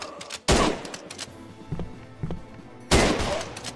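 Two loud, close gunshot blasts crack out about two and a half seconds apart in the video game The Bluecoats: North & South, with softer thuds and clicks between them.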